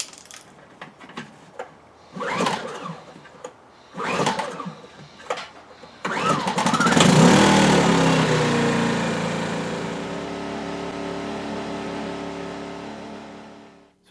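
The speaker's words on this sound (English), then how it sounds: "So to give you some kind of a feel what the noise factor is, the generator is on the opposite side of that wall, just beyond that window" A Ryobi 700/900 watt propane generator pulls and catches, then runs with a steady muffled drone through a wall, fading gradually toward the end.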